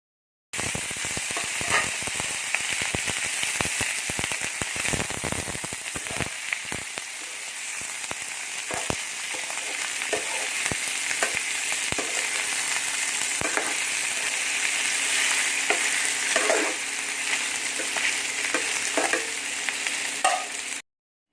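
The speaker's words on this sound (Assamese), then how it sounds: "এতিয়া মই ইয়াত বইল কৰি ৰখা মাংস আৰু আলুকেইপিচ দি দিছোঁ" Boiled pork and potato pieces frying in fat rendered from the pork, a steady close sizzle and crackle with scattered pops and the occasional scrape of stirring, continuing unbroken.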